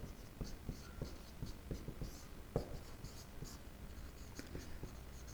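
Chalk or marker scratching on a board during a chemistry lesson, steady rapid strokes and taps close by with a faint background hiss.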